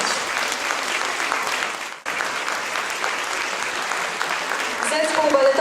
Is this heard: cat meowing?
no